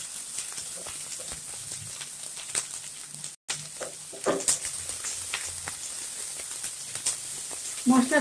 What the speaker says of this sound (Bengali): পেঁয়াজ একটু ভেজে নিয়েছি, এখন বাটা মশলাটা দিয়ে দিলাম, রসুন কুচি, কাঁচা মরিচ কুচি